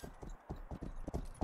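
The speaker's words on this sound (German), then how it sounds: "Dann steigen wir erstmal auf unser Pferd." Horse hooves clip-clop in the Rustler video game as a rider mounts up, a quick run of close, fairly quiet thuds in uneven rhythm.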